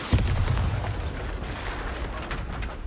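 Bombarda spell explosion in Hogwarts Legacy, a deep booming blast near the start followed by rumbling debris and crackling that fades out.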